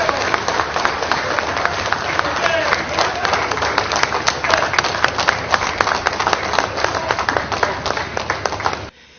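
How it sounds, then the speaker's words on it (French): A crowd gives the head of state a standing ovation on his entrance at a formal gathering: dense, sustained clapping with sharp individual claps, rising slightly and then cutting off abruptly near the end. "Lors de son entrée, le garant de la nation a eu droit à une standing ovation"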